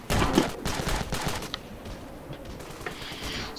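The Quicksilver gun fires in the Ravenfield video game: a dense, loud volley of rapid gunshots at the start that thins out and fades into scattered distant shots.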